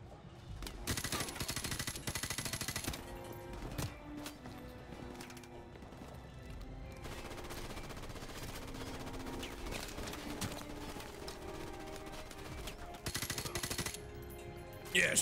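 Rapid bursts of gunfire from Call of Duty: Modern Warfare, dense machine-gun rattles and single shots layered over in-game music and effects, steady and loud throughout with a few louder bursts near the end.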